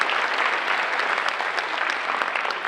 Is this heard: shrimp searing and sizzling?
no